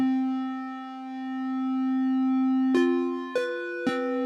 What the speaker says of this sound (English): let's turn this into a sine wave and then start to mess with the warp